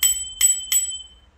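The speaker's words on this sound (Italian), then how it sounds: "il campanello non mi piace." A bicycle bell mounted on a Funky Black XP e-bike rings three times in quick, even succession, bright and close, each ding fading with a short metallic ring.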